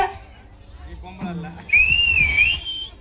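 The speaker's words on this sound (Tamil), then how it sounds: "உங்க பொம்பளை ஒரு டைம் விசில் அடிச்சு பாக்கலாம்" Sharp, loud whistle rising and wavering for about a second near the end, after quieter crowd chatter and voices in a lively gathering.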